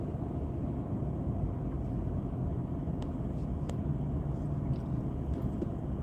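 Steady low interior rumble of a car driving in traffic, a constant engine and road drone with a couple of faint clicks, no voices.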